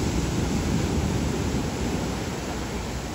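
Strong ocean waves surging and crashing, a dense, loud, continuous roar of surf filling the whole moment with no voices.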